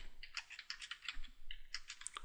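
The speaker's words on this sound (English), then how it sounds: "I'm afraid I type quite slowly" Slow, uneven typing on a computer keyboard, close crisp key clicks in short bursts with brief pauses, quiet and alone.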